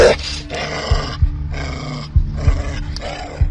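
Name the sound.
rabid mastiff dog growling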